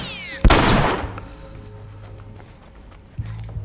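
A single loud, sharp gunshot in the video game The Last of Us rings out near and decays into a low rumble, with faint game ambience afterward.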